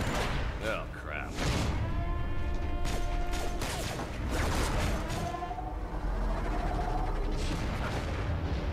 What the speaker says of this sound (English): So he just fired me out of a cannon in a container